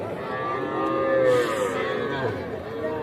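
Young heifer calves at a busy cattle market moo loudly and close by, one long drawn-out call swelling and fading over a murmuring crowd background.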